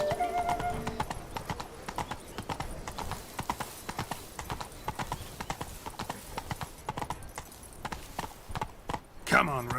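Roach, Geralt's horse in The Witcher 3: Wild Hunt, gallops with a steady, rapid clip-clop of hoofbeats that stays loud and close throughout, with a short whinny-like burst near the end and faint voices in the background.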